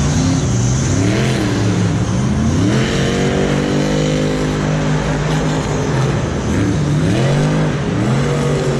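Pirates Curse monster truck revving hard in a muddy Monster Jam arena at MetLife Stadium, loud engine pitch rising and falling in repeated surges over a continuous rumble, close and dominant with no talking.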